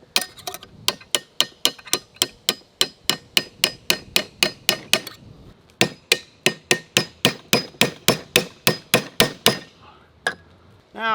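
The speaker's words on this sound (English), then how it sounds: "Let's see if I can use this punch and a hammer" Rapid, evenly spaced hammer blows on a metal punch against a Glock 19 pistol barrel ring out, sharp and close, two long runs of strikes separated by a brief pause.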